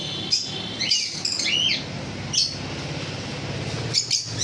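Several short, high pet bird chirps, from birds such as lovebirds, Java sparrows and cockatiels, in bursts over a steady low background hum, with no voices.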